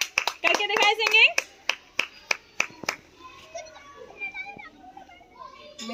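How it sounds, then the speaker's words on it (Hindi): Children in a classroom clap in a quick burst of sharp, close claps, followed by slower single claps, with children's voices and an adult speaking around them. "बाकी बच्चे ताली बजाते रहेंगे"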